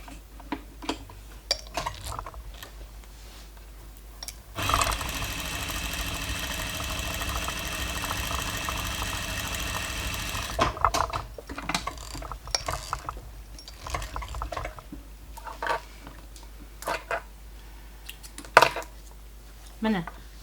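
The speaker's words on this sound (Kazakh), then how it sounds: "қазір екінші жағын тігіп аламын." A sewing machine stitches a patchwork quilt in one dense, steady run of about six seconds, set between quieter stretches of fabric handling, clicks and someone talking.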